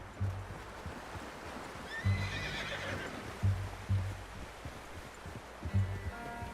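A horse in an open-world western video game whinnies softly, with a low repeated thud of hooves and a rustling outdoor ambience, no talking.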